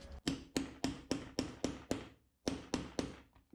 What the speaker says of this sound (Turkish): Delme işlemine geçiyoruz arkadaşlar.